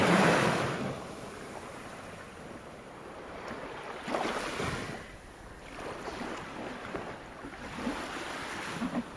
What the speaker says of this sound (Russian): шум моря вам в ленту